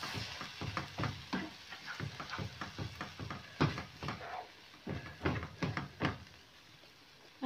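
Stirring ossobuco ingredients in a pot, a quiet series of scraping, clinking strokes in an irregular rhythm with soft sizzling between them, close by and alone.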